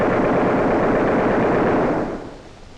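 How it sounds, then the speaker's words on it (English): A sustained machine gun burst of about two seconds from an aircraft position, loud rapid-fire rattling that holds steady and then tails off into a fading echo. "As soon as he gets in range, fire a 2-second burst."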